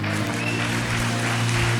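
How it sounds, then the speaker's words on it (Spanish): Applause from a church audience, a dense continuous patter of clapping with music or voices underneath, brief and fairly loud. "Démele un aplauso a estos sugieres."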